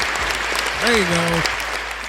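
A brief wash of applause under a voice speaking over it, broadband clapping continuing throughout the short stretch.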